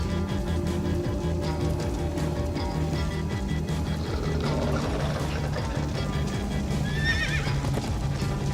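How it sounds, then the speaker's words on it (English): A horse gallops with a steady, loud run of hoofbeats in the Minecraft Story Mode video game, and a sharp, near whinny breaks out toward the end. "Slow down, horse!"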